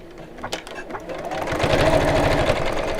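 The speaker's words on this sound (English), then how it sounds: "it might just be because I'm sewing through the fusible fleece" A sewing machine stitches through fusible fleece, starting with a few clunks and soft handling noises before settling into a fast, steady, rhythmic mechanical chatter close by, with speech faintly mixed in.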